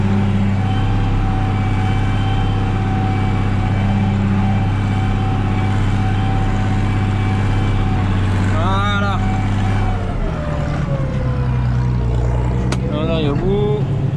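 A tractor ploughing a field right along the edge of a ditch, its engine droning steadily and loudly throughout with a slight shift in pitch partway, while a person talks over it.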